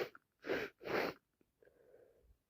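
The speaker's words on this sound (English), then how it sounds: "I need to sneeze." A woman with a head cold lets out two strong, close sneezes in quick succession, followed by a short sniff and then a softer, congested wheezy breath.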